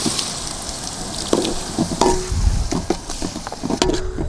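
Sliced sweet capsicum sizzles in hot oil in a pan for a chicken biryani, with a spoon scraping and stirring in short irregular strokes over a continuous close frying hiss.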